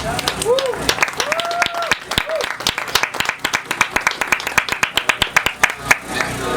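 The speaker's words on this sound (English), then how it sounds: "please give a round of applause for Aimee" An audience claps for a guest at an organic coffee competition, sharp distinct handclaps building into steady applause, with a voice and some crowd murmur near the start.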